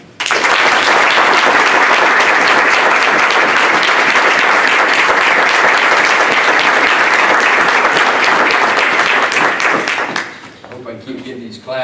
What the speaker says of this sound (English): Keep getting these claps after every game here.